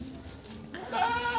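A pregnant goat bleats once, a clear wavering cry that rises near the end over a low background, close to the microphone.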